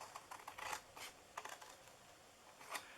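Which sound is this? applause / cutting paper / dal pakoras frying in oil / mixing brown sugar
cutting paper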